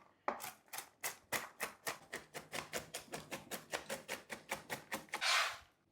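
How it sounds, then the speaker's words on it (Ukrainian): Knife chopping walnuts on a wooden board, a steady run of about twenty crisp, close taps at an even, brisk rhythm with no talk. "І ножиком потрібно його трішки подрібнити, тому що цей грецький горіх він завеликий"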